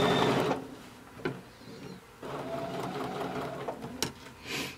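Domestic sewing machine stitching a quilt with ruler work, running in steady bursts of rapid mechanical needle hammering, pausing briefly between stitched lines, close and fairly loud.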